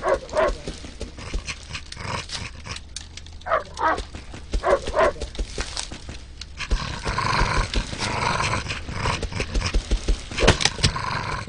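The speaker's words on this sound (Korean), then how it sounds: "야, 집 안에 못 들어오네, 늑대가." A wolf in the survival video game Rust growls and barks in short, repeated bursts. The snarls come close and loud amid game noise.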